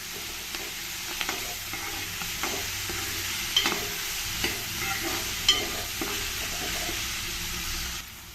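Thickly cut Mysore brinjal pieces fry in a little oil for a brinjal rice bath, producing a continuous close hiss and crackle with repeated stirring scrapes and clinks against the pan, no speech.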